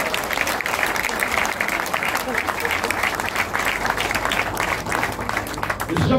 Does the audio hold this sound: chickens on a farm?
no